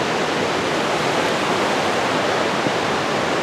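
A waterfall roars in a steady, dense, unbroken rush of falling water, close and constant throughout with no voices.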